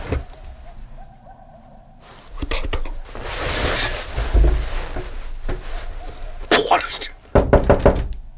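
Sharp knocks on a door come in bursts, loud and close, mixed with rustling and muffled voices in the background.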